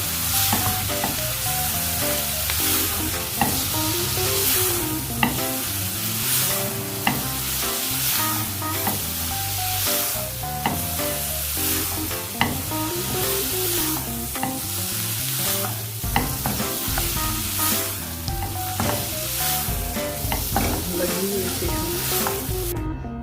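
Chicken stirred in a hot pan, giving a loud continuous sizzle with repeated scraping strokes of the spoon, heard close up throughout under steady tonal background music.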